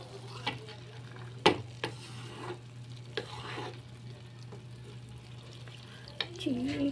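Leftover chicken dish reheating in a frying pan, a soft steady sizzle with occasional stirring scrapes and clinks, a constant low hum underneath, close by.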